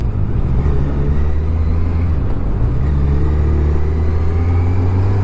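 A motorcycle engine drones loud and close with a low, steady hum, its pitch dipping briefly and then climbing again as the bike moves off.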